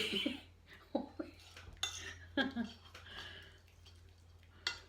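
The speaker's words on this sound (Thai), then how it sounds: "แล้วก็จะคนนะคะคราวนี้" Utensils scrape and clink against a bowl as ingredients for a spicy raw oyster salad with wasabi are stirred, several sharp taps and scrapes at an irregular pace, close and fairly quiet, with someone speaking between them.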